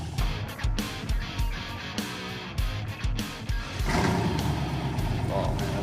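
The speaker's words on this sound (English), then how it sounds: "We're gonna go do burnouts." A car doing burnouts sends out bursts of loud engine revving with sharp, choppy surges, then settles into a sustained roar, while people talk over it.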